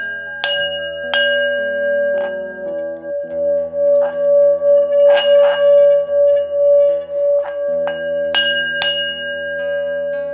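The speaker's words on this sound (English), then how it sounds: "Okay, so singing bowl sounds like this." A singing bowl is struck and rubbed, giving a sustained, pure ringing tone that swells and pulses steadily, with several bright metallic strikes ringing out over it. The bowl is close and loud, with no talking.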